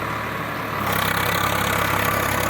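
A large tractor engine running steadily while ploughing farm fields, a continuous low rumbling drone that rises slightly in level partway through, close and loud with no speech.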